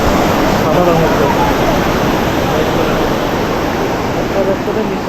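A waterfall on the road from Zuluk to Rishop pours with a loud, constant rushing roar while a voice talks over it.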